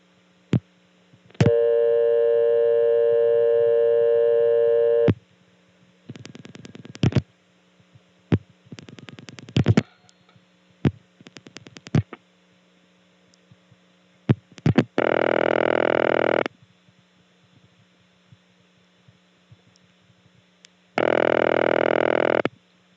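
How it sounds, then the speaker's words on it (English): A 1976 step-by-step telephone exchange in Birdsboro, Pennsylvania, answers a call dialed to a vacant level with an unanswered ring: long buzzy ring bursts repeating after pauses, mixed with relay clicks and switching chatter, all over a low steady hum. "When you dial a vacant level, you get an unanswered ring."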